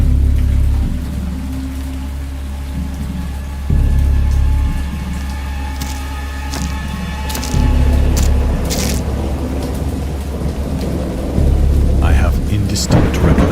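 A thunderstorm in the Dagon video game, adapted from H. P. Lovecraft, with steady rain hissing and low thunder rumbling in long rolling swells. The storm sounds loud and close throughout, with no talk over it.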